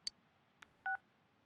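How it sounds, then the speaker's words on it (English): Three short electronic phone keypad tones, two quick single beeps followed by a longer dual-tone press, as a character dials Nanako's number in the video game Persona 4 Golden, clean and isolated. "He's calling Nanako's phone"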